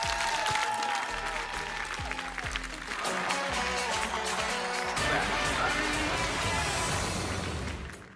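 Audience applause for a singer on the televised X Faktors 2019 talent show stage, a loud sustained wash of clapping and cheering under music, continuing for about eight seconds.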